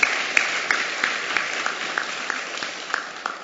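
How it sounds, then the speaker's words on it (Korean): Sparse, rhythmic clapping from a church congregation during a Sunday morning worship service, with distinct individual claps in an even beat over a hiss of room noise. "우리 하나님께 박수로 감사하겠습니다"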